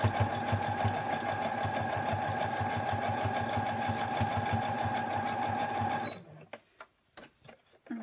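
A sewing machine stitches mitten fabric with a fast, steady mechanical chatter for about six seconds, then stops, leaving a few soft handling clicks and rustles.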